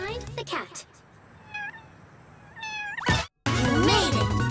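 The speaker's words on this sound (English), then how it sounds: "Find the cat." Cat meowing in the motion-controlled game WarioWare: Move It, short rising meows amid game music and effects, with a voice speaking over the game sounds.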